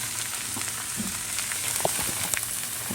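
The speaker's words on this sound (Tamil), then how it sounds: "ஒரு கரண்டி ஊற்றி தோசை ஊற்றிருக்கேன் மைதா மாவில்." Dosa batter made from maida flour sizzles in a hot pan, a steady close frying hiss with faint scattered clicks and pops, no voices.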